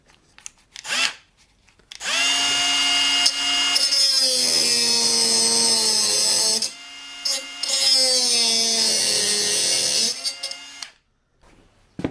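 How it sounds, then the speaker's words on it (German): A Bosch mini angle grinder spins up loud and close with a high whine, drops off, then runs again for several seconds before winding down to silence. "Diese Mini-Flex von Bosch."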